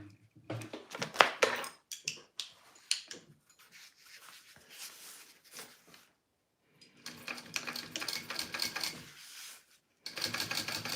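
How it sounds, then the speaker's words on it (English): A sewing machine stitches a purse in short bursts, starting and stopping several times with quiet handling noises between runs. "I'm gonna sew that in, and then we'll add the back piece"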